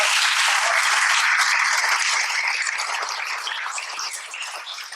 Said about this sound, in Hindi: तो हम सबके लिए एक बार तालियां।